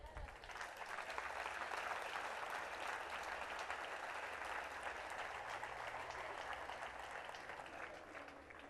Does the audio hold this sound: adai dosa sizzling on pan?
no